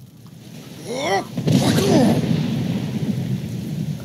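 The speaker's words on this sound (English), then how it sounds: "I wish the rain was more quiet." Rain falls steadily in the fantasy game Skyrim, a continuous wash of downpour with rumbling thunder, while a voice talks over it and dominates the first half.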